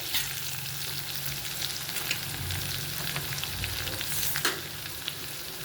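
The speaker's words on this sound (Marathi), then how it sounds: "मग असं हे आपल्याला परतून घ्यायचं आहे आपण बटाट्याची भाजी करतो आहे" Potato bhaji with green chilli pieces sautéing in a pan, a steady close sizzle and fry with stirring scrapes throughout, no voices.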